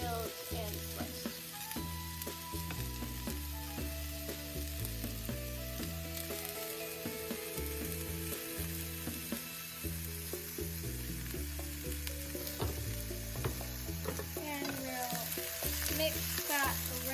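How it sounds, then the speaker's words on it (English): Sliced yellow onion stir-frying in a pan gives a steady sizzle that runs the whole way under a continuous bed of background music. "Mix that around for 3 to 4 minutes until everything gets tender"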